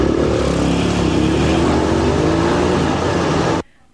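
Off-road racing vehicles roar loudly at a summer festival race in Pangasinan, a dense continuous engine drone that holds at full volume and then cuts off abruptly near the end.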